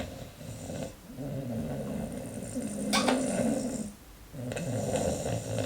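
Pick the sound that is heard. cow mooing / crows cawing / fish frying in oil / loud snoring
loud snoring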